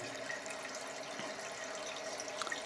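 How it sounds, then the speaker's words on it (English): Toilet tank refilling with water through an open valve after a flush, a continuous quiet hissing rush of running water with small splashes, steady throughout. "Now this valve is open and starts allowing the water to go through."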